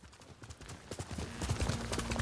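Rapid hoof clip-clops of a trotting horse in the video game Ghost of Tsushima, close and steady, growing slightly louder, with a faint tonal hum in the background.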